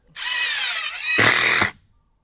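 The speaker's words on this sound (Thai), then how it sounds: "ทีนี้ลองโหมดขันเข้าออโต้ดูบ้างนะครับว่ามันจะเป็นยังไงนะฮะ" A POLO cordless impact driver from the PCB161A2 combo set runs in auto screw-driving mode, starting with a steady high whine and then switching to loud rattling hammer impacts for about half a second before stopping, close up with no talk.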